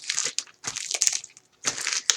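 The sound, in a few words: brayer rolled over plastic bag on paper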